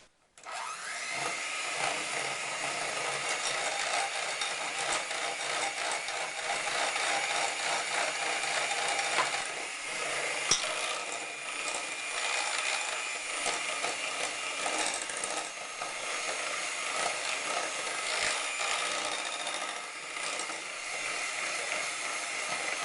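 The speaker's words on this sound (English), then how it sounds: "we're going to take back our egg yolk mixture, and we're just going to mix this till it's really nice and creamy and frothy" A steady, loud electric mixer whirs continuously for over twenty seconds as it beats an egg yolk mixture for a sponge cake. The motor drones with a slight rattle, and no one speaks.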